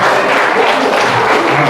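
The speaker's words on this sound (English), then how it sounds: "Give him a round of applause." A crowd of students claps steadily in a dense burst of applause in a college classroom, loud and close, with no clear pauses.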